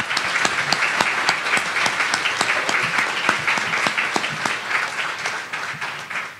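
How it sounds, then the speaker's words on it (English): An audience at a 2016 caregiver summit applauds a panel discussion with steady, dense clapping from many hands that holds for several seconds and eases off slightly at the end, with no talk. "round of applause for the panel."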